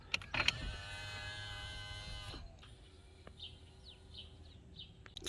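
A steady electric motor whir of power-folding tow mirrors on a 2007 GMC Sierra 2500HD pickup runs for a couple of seconds, then stops, followed by quieter ambient sounds with faint chirps in the background.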